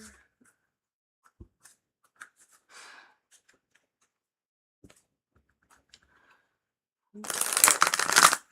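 Tarot cards are shuffled briskly near the end in a dense, riffling burst, following a stretch of near silence broken by soft handling taps and faint breaths.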